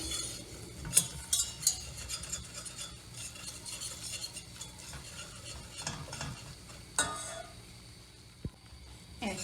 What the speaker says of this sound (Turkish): unumun kokusu çıkana kadar kavurdum